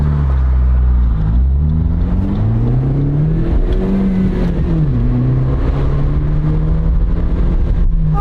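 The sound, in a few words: small car engine accelerating, standard transmission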